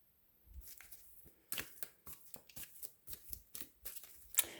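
A deck of cards is shuffled for a card reading in a quiet room, giving a soft series of riffling bursts and taps that grow denser toward the end, close and faint.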